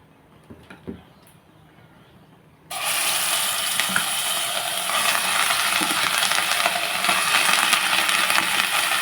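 Urad dal roti dropped into hot oil hisses up abruptly and keeps frying in a loud, steady, bubbling sizzle, after a few quiet knocks and clatters beforehand.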